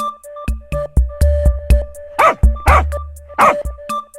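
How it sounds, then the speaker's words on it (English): A dog gives three sharp barks, loud and close, over a plucky children's music backing with short rhythmic notes and a steady beat. "D for dog."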